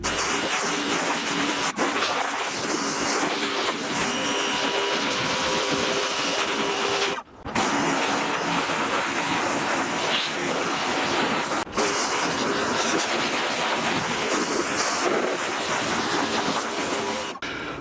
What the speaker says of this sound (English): So now I can go ahead and rinse.